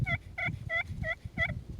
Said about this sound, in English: One of the things I like about this slate on this Mother Clucker calls is the nice pop it has to it.